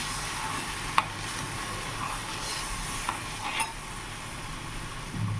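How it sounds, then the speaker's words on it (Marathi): Besan batter for a sour gram-flour curry is stirred round a pan in a steady, continuous scrape over a soft sizzle, with a few sharper knocks of the spoon and no talking. "त्याला एकसारखं फिरवून घेऊया, म्हणजे याचे गोळे बनणार नाही"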